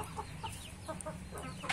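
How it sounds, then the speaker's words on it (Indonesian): Several chickens in a village coop cluck in short, soft calls scattered across a brief moment, close by against a low background hum. "Ada ayam."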